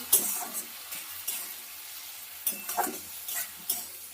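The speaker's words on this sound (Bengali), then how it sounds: "সব কিছু একসঙ্গে দিয়ে এবার একটু ভালো করে কষিয়ে নেব" Spices with tomato paste and ginger-garlic paste being stirred and fried in a pan for a Bengali-style egg curry, with a soft steady sizzle under scattered scraping stirs and a few louder clinks.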